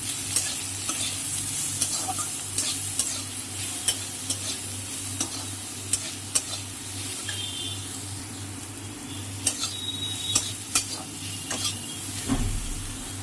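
Green banana stir-fried with black cumin and chili in a pan, a constant close sizzle punctuated by repeated sharp clicks and scrapes of the spatula against the pan throughout.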